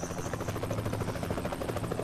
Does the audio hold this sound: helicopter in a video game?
yes